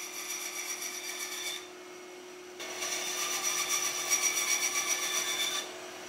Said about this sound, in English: get it cut down on the bandsaw